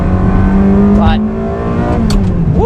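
A 400-horsepower Ferrari 360 Spider with a gated manual gearbox accelerates, its engine note loud, close and steadily climbing, with a voice briefly heard over it.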